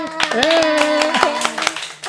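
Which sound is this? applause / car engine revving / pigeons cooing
applause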